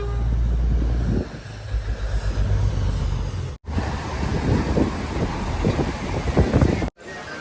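A train rumbles past nearby at Matheran, India, a heavy low roar with rattling and wind buffeting the microphone, cutting out briefly twice.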